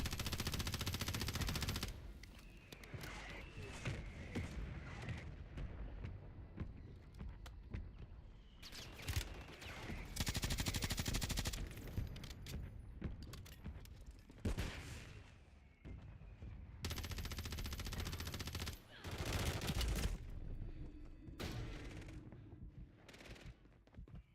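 Video game gunfire in a chaotic firefight, repeated bursts of automatic fire and heavy booms rising and falling over about twenty seconds, with some footsteps between volleys.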